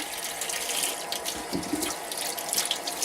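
Carrots are washed under a running kitchen tap, with a steady close rush of water and light splashing as they are handled, heard alone.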